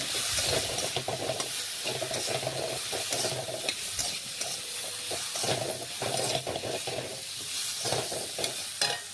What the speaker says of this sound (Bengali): এখন আমি খুরপি দিয়ে সমস্ত উপকরণ দেখুন আলুর সাথে মিশিয়ে আলু একটু ভেজে নিচ্ছি